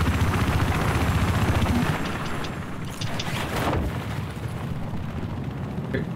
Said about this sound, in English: I'm spawning in our transport chopper